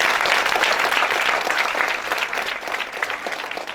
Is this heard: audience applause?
yes